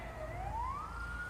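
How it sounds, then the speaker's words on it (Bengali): A police car siren wails alone, its tone sweeping smoothly upward in a single rising glide, loud and steady against a low rumble. "সাইরেন বাজে দুটো পুলিশের গাড়ি এসে থামল"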